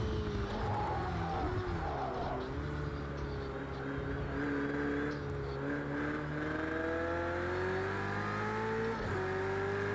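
A race car engine screams at full speed in the Project Cars 2 racing game, a loud, sustained high-revving drone with its pitch rising and dipping through gear changes. It plays alone without talk.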